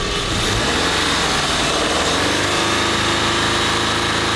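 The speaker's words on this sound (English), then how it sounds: "Now rev it up." A car engine revs hard and holds at high RPM with the headlights and air conditioning switched on, a loud, steady, close roar that climbs slightly at the start and then sustains without talk.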